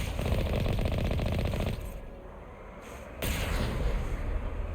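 A cannon shot fired in Mass Effect 1, a dense roaring burst that drops away briefly, then returns as a loud sustained rumble, no talk.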